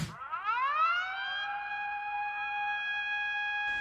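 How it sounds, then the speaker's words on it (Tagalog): Tsunami warning siren sounding across a coastal area of northeastern Japan after a magnitude 7.7 earthquake, a steady electronic wail that rises in pitch at the start and then holds, loud and alone. "Pinutunog ang mga sirena sa iba't ibang coastal area para balaan ang mga residente na lumikas."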